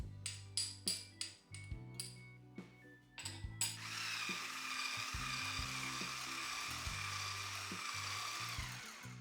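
An electric hand mixer beats egg yolks with sugar, starting as a series of sharp clinks and taps against the bowl before settling into a steady, loud whirring drone that runs to the end.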